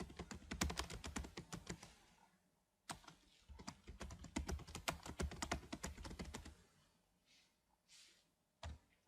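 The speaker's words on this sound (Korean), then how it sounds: "줄을 바꾸기 위해서 엔터를 누릅니다." Computer keyboard keys clatter in quick bursts of typing, broken by short pauses, with single sharp key presses near the end that fit the Enter key; close, dry and fairly quiet, with no voices.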